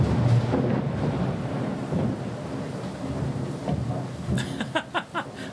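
A thunderstorm with heavy rain, a continuous wash of rainfall with low rumbling thunder, ending in a sharp close crack.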